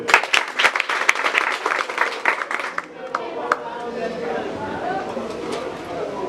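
Applause from an audience at a Vodou ceremony celebrating women, held by Manbo Vida: dense clapping for about three seconds that then thins into a softer crowd murmur with scattered claps.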